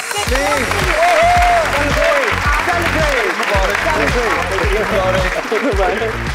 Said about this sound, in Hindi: ये बात, तालियां तालियां।